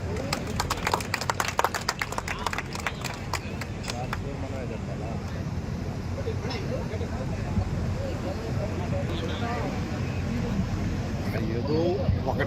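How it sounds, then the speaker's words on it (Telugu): Crowd at a Telugu Desam Party political rally in Gudur clapping in a burst of sharp claps during the first few seconds, fading into a noisy crowd hubbub with voices talking. "క్లాప్స్ కొట్టు."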